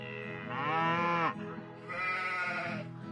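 Sheep bleating in the farming game Potion Permit: two drawn-out, wavering bleats, close and clear, with a short pause between them and no talking.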